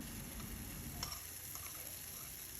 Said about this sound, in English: Grease your pan and add your pancake mix.